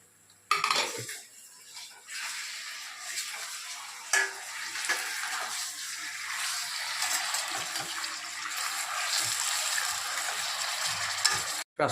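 Chicken added to a pan of browned onions for a village-style country chicken curry, a steady loud sizzle and frying hiss with occasional clinks of a spoon against the pan.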